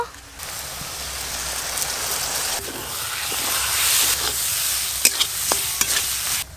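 Ginger-garlic and spice paste frying in a pan for a crab curry, stirred as it cooks: a steady, loud, close sizzle throughout, with a few sharp utensil clinks near the end and no talking.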